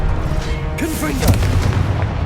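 Confringo blast spell exploding in Hogwarts Legacy amid a dense, loud combat soundscape, a sudden booming burst with crackling trail rising over constant rumble, with a voice present beneath.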